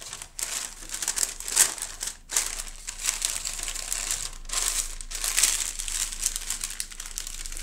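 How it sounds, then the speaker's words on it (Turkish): Baking parchment paper being folded for paper kebab, close crinkling and crackling in irregular bursts with brief pauses, no talk. "Şimdi yağlı kağıdın her iki tarafını katlıyorum."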